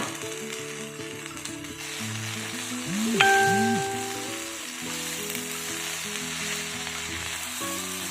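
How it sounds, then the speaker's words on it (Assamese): Chopped pumpkin leaves frying in a pan, giving a low steady sizzle under a mix of tonal background sounds and a few stirring scrapes; moderate and close, with no talking. "মই ভালকৈ আৰু লাৰি পেলাই 2 মিনিটমান এনেকৈ মই ভাজি লৈছোঁ"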